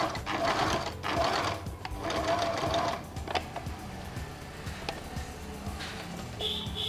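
Sewing machine stitching elastic rope onto a C&S sutana cap, running in steady rapid bursts with brief pauses and clicks, close and fairly loud.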